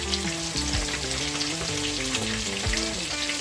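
Chicken wings frying in a pan for barbecue wings, giving a steady, dense sizzle and crackle throughout, fairly loud and close with no talking.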